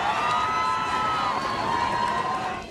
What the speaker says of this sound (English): thousands greeting the Pope with cheers